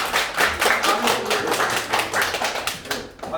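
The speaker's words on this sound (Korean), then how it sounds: "박수 한번 주세요." A small audience claps at a Korean community concert, brisk, close and fairly sparse hand claps with audible individual strikes, steady for a few seconds before tapering.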